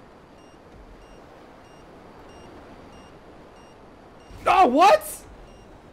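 Electronic warning beeps from GTA Online, a brief cluster of a few sharp tones near the end, preceded by quiet background and a short spoken exclamation.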